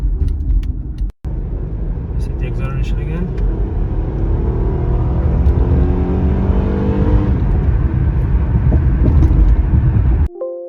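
A 2009 Acura TL accelerates hard, its engine note rising steadily for about ten seconds as a loud, continuous roar before cutting off abruptly.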